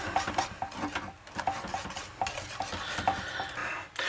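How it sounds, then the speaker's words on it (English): Whisk stirring a tapioca pudding mixture in a bowl, quick scraping and clinking strokes against the sides in an uneven rhythm, close and fairly soft, with no one speaking. "We're going to whisk that together."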